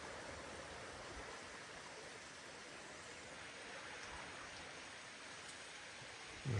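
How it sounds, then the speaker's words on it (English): A small creek along the Appalachian Trail trickles and babbles steadily in a soft, continuous wash, with no voices, ending in a brief bump. "Little creek."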